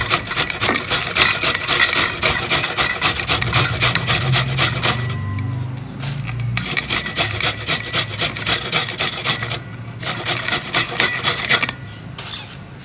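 Fresh ginger is rubbed quickly against a metal grater, a dense rapid rasping that runs almost continuously, loud and close, with a couple of short pauses.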